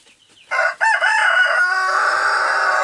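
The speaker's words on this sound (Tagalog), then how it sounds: "At ito naman yung tumitilaok na manok." A close, loud rooster crow starts after a brief quiet, rising in a few bursts before holding a long drawn-out final note.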